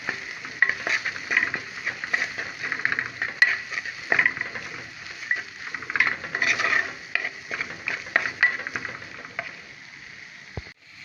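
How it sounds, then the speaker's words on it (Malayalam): Kashmiri chili powder fries in a pan while being stirred, making repeated scraping and tapping strokes in a steady rhythm over a faint sizzle, with no talking. "ഇനി അതിലേക്ക് നമുക്ക് കുറച്ച് പിരിയൻ മുളകിൻ്റെ പൊടിയും കൂടി ചേർക്കാം നന്നായിട്ടൊന്ന് പച്ചമണം പോണ പോകുന്നവരെ ഒന്ന് ഇളക്കി കൊടുക്കാം"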